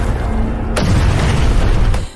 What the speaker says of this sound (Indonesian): Kapten Keating memerintahkan beberapa pasukan, yaitu Willie dan Pete, di bagian mortar untuk menembakkan mortar ke arah lokasi yang sudah ditargetkan